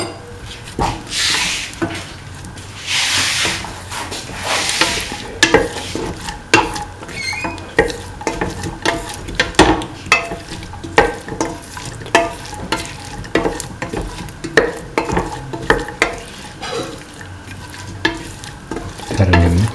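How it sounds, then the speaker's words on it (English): Potato and chickpea mixture stirred in a pan, a spoon scraping and clinking repeatedly against the metal while the food sizzles softly, close and busy throughout. "Mix the chickpea with the rest of the mixture."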